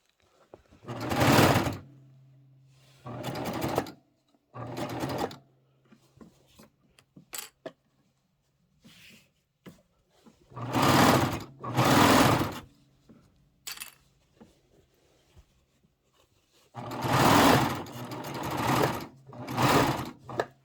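A serger sewing machine finishes the back of a Kimberbell pillow in several short, loud whirring bursts separated by quiet pauses, with faint handling clicks in between.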